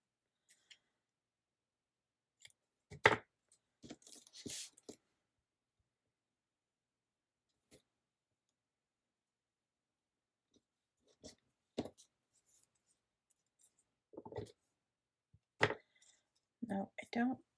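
Scissors trimming the ends off paper craft pieces, a few sharp snips and clicks scattered between long quiet gaps, close to the microphone, with occasional brief talk.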